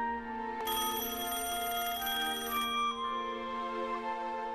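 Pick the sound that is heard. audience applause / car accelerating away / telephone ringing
telephone ringing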